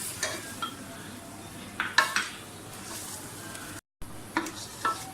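Tomatoes frying with yogurt in a pan for chana dal pulao, a soft sizzle with a few spoon scrapes and clinks against the pan, close and fairly quiet.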